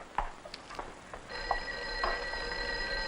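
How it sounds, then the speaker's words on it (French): An old telephone bell rings in a 1959 horror film office scene, starting as a faint repeated ring and then continuing as a steady electric ringing tone, heard alone with no speech. "je crois que le téléphone sonne"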